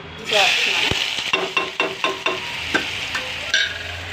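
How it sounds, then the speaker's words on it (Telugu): Tomatoes, green chillies and ginger-garlic paste hiss and sizzle in hot oil while a spoon stirs and taps against the pan in quick, close scrapes; the sizzle is loud at first and then settles. "టమాటాలు వేసాను పచ్చిమిర్చి వేసాను అల్లం వెల్లుల్లి పేస్ట్ వేసాను"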